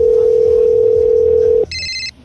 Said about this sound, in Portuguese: Vou ligar pra Patrícia ver se tá na loja dela.